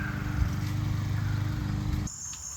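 A lawn mower runs steadily close by for about two seconds, its low droning engine hum with a rough buzzing harmonic, then cuts off abruptly, leaving quieter outdoor ambience.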